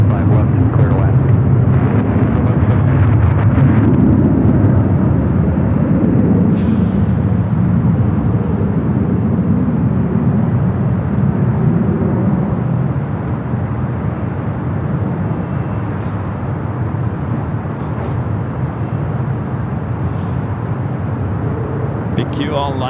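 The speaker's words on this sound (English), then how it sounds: "Big Q going to be taking off on the south side as well." A Qatar Airways heavy jet, Flight 740 bound for Doha, powers up for takeoff on LAX's south side runway, its broad, steady engine roar loud and sustained throughout, easing slightly toward the end, with radio chatter faintly under it.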